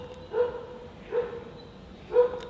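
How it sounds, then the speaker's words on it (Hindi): Dogs bark in three short, separated bursts at moderate distance, each a brief yelp-like bark over a steady background hum. "और कुत्ते देखो सच में भौंकने भी लग गए।"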